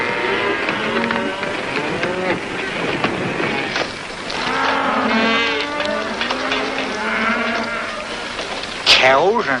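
Cattle moo and low repeatedly in a herd, several calls overlapping, with a sharp higher cry near the end.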